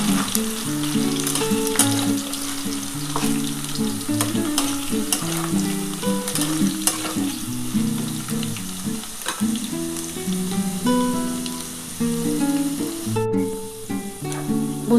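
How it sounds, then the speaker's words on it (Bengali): Potatoes and bori (sun-dried lentil dumplings) fry in oil for a Bengali vegetarian bean, potato and bori curry, giving a steady, continuous sizzle with light stirring, heard alongside tuneful music throughout. "বন্ধুরা দেখো, আমার কিন্তু আলুটা ভাজা হয়ে এসছে।"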